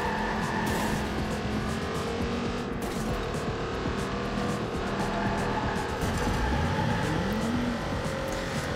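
A fast older car drives continuously in Watch Dogs 2, engine roaring steadily and loud with a brief rising pitch near the end, tire noise underneath.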